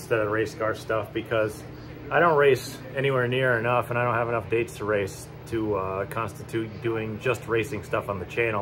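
A steady, low electric fan hum runs continuously beneath someone talking close to the microphone, never letting up between his phrases.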